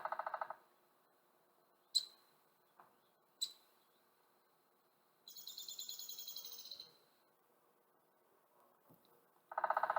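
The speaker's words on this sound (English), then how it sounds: "Do you hear that hammering sound? That's the sound of the woodpecker using its beak to make holes" A downy woodpecker drums on a tree, a rapid roll of taps lasting over a second, with a few single sharp knocks earlier and louder bursts at the start and end.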